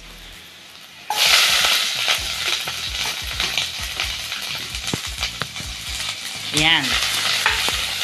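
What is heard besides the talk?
sautéing onion after garlic in a pan for fish soup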